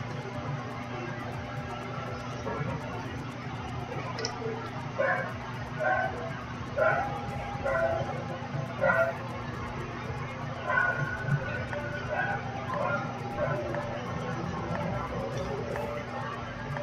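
Small dog yipping and barking in short bursts outdoors on a windy day, a puppy heard at moderate distance over steady background hum while someone talks to it.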